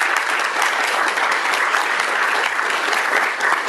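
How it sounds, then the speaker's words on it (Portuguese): A meeting audience at a union gathering applauds steadily and loudly for the full length, with dense continuous clapping and no break. "Pode aplaudir."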